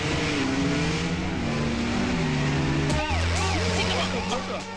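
A car engine hums on a road, and partway through a vehicle sweeps past with a rising and falling tone, accompanied by dramatic music and voices talking.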